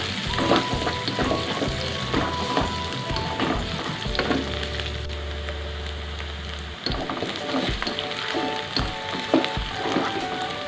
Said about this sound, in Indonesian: Jadi supaya lebih enak kita goreng dulu ya baksonya.